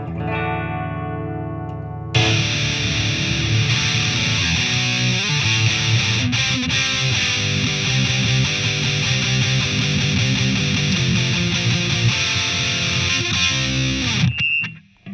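Heavily distorted Les Paul electric guitar through a DemonFX BE-ODX overdrive pedal into an amp: a quiet clean note, then about twelve seconds of loud, dense, gritty sustained chords and a harsh, skronky passage before stopping.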